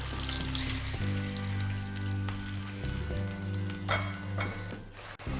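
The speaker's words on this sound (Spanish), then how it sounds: "Y se acaban de freír todos los filetes" Chicken breast fillets fry in hot oil in a pan, giving a steady, close sizzle and crackle, with a few clinks and shifts as the pieces are moved, and no one speaking.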